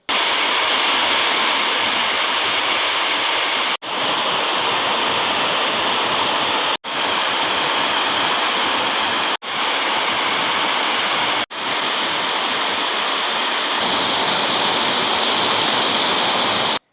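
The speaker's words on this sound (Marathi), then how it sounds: "नदी नाले दुथडी भरून वाहत असून समुद्राला उधाण आलं आहे." Swollen rivers and streams rush in heavy monsoon rain in Konkan, a loud, dense, continuous roar of torrential water, cut into several abrupt segments.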